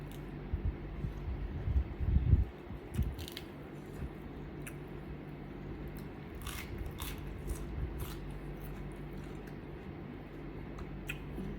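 Crunchy bites and chewing of food from a Thai Isan beef soup meal with a spicy dipping sauce, a cluster of loud crisp crunches early on, then softer intermittent chewing and small crackles close to the mouth, without talk.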